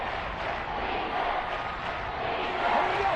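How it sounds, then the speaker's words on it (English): A large stadium crowd at an American football game roars in a dense, continuous wash of cheering, swelling slightly toward the end ahead of a big third down. "The crowd getting into it as we come up on a big third down"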